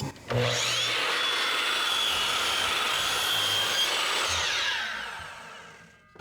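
A miter saw cuts through a wooden fence picket set at a 30-degree miter and 35-degree bevel, a loud, close, sustained whining roar that winds down over the final seconds.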